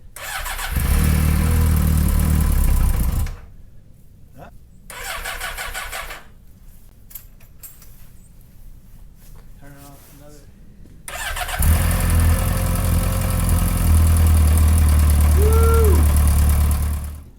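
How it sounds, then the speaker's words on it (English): A motorcycle engine cranks and fires up loudly in cold weather, catching after a stretch of quieter sputtering attempts, then settling into a strong, steady close-up idle. "I went over to start the bike in cold weather"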